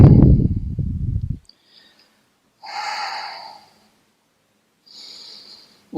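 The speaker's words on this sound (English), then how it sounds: "Ujjayi breathing." Ujjayi yoga breathing during a plank and side plank practice: two slow, hissing, throat-constricted breaths, separated by silence and heard close and alone after a brief burst of low rumble.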